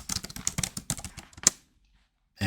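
Rapid clatter of keys on a computer keyboard for about a second and a half, close and fairly crisp, then a brief silence before another burst of sound.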